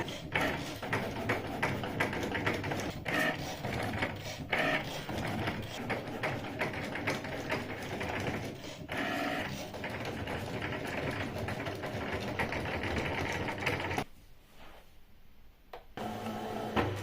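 A Cricut Maker 3 cutting machine whirs and chatters with a rapid mechanical rhythm, running steadily before pausing briefly near the end and starting again.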